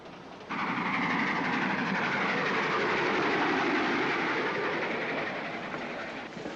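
A train in a 1946 film rumbles steadily along the rails with a constant broadband roar and soft rhythmic clatter, fairly close, easing off slightly near the end.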